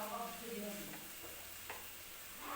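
Spring onion greens stir-fry being stirred in a hot pan, a steady sizzle with soft scraping strokes, close and continuous, with no voice.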